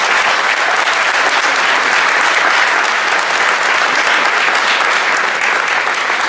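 A large audience applauds the steering and strategic committees at a 2017 tournament event in Paris, producing a dense, loud, continuous wash of clapping throughout with no break.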